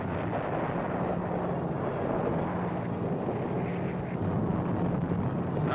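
Artillery and bombing barrage on German gun emplacements in the hills around Cassino, Italy, in WWII, heard as a dense, continuous roar of rumbling blasts on a worn, noisy newsreel soundtrack, with no individual booms standing out.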